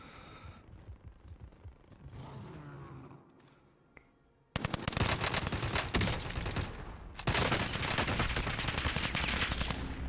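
Video-game gunfire in Call of Duty Warzone: quiet muffled in-game ambience gives way to loud, dense bursts of automatic fire and rapid shots that continue for several seconds, close and sharp.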